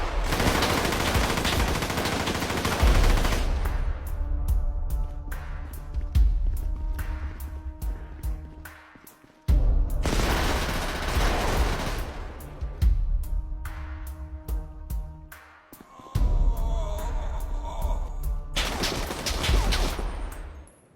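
AK-47 fire in GTA 5 comes in long loud bursts of rapid automatic shots, broken by short gaps, with single echoing cracks and sporadic shots trailing between the volleys.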